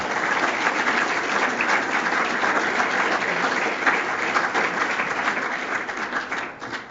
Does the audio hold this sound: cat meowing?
no